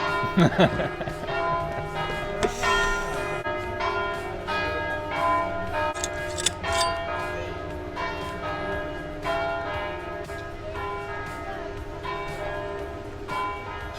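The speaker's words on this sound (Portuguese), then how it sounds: "Vamos esperar o sino da igreja tocar." A church bell tolls repeatedly with resonant, lingering strikes, while people talk quietly underneath.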